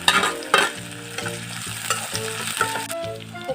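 Chopped onions frying in a pan for Assamese mutton curry, with loud sizzling and repeated scraping stirs of a utensil in a steady rhythm, close and without talk.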